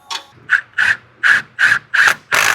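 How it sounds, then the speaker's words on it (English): Bolts being ratcheted back in during a turbo install on a truck, seven crisp rhythmic ratchet clicks in quick succession, close and loud with no talk. "I put all these bolts back and make sure it actually still stays together."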